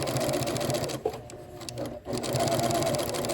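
A sewing machine runs a basting stitch on a fabric bowl cozy, humming and rattling loud and close, pausing briefly midway before starting up again.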